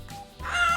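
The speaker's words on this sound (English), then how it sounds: "Turkey." A brief turkey gobble, a short fowl-like call lasting under a second, heard over a soft musical background.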